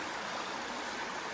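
Stream running beside a hiking trail on the Appalachian Trail in Pennsylvania, heard as a steady close wash of flowing water with no gaps and no talking.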